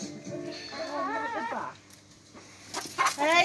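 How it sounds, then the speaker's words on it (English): Chickens cluck and squawk while being fed, a few bright, wavering calls close by, pausing briefly before more erupt at the end. "loves feeding chickens"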